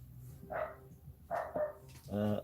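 A pet dog barks indoors in three separate bursts, fairly close and loud, against a low background hum.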